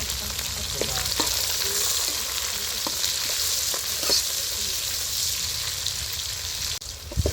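About a quarter kilo of raw onions with curry leaves frying in hot oil for a rice upma, a continuous close sizzle with occasional stirring scrapes and clicks, briefly dipping near the end.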